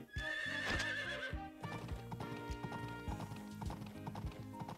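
A horse whinnies loudly in the video game Story of Seasons: Pioneers of Olive Town, then hooves clip-clop in a steady rhythm over a musical background, with a synthesized quality.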